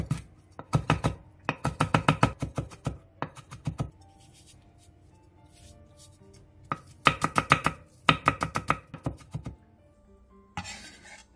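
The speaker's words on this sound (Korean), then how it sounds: "고추와 대파는 길게 십자 모양으로 칼집을 낸 뒤 쫑쫑 썰어주면 잘게 썰 수 있어요" A knife finely chops chili peppers and green onion in quick, close, rhythmic runs of crisp taps, broken by short pauses, with no talking.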